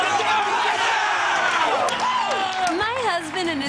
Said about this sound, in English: all their cheering and shouting can make them pretty hungry